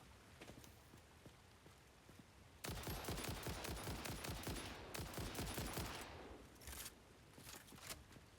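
Rapid, dense bursts of automatic gunfire in a video game, loud and close, with a sustained crackling volley in the middle and scattered shots before and after; no talking.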